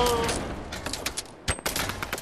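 Video game firing squad gunfire, a burst of rapid overlapping shots followed by scattered sharp cracks over about two seconds, loud and close.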